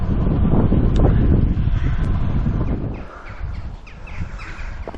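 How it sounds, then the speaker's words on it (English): Crows disturbed from a field in hilly countryside, a few harsh caws breaking through strong wind buffeting the microphone, with the wind easing partway through. "I'm after disturbing a field full of crows there."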